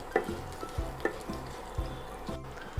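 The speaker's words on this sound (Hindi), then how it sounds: "अब इसमें डाल देते हैं खड़ा मसाला, शाही जीरा और बे लीफ। अब इसको 10-15 सेकंड के लिए भून लेंगे।" Whole spices with shahi jeera and bay leaf roasting in ghee, a faint low sizzle with quiet, regularly spaced stirring knocks and scrapes.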